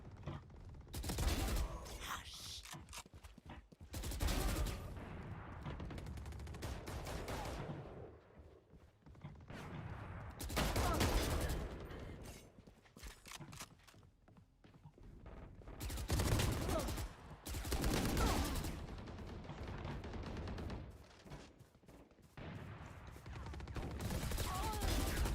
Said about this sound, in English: Curang bro, pakai machine gun dia bro.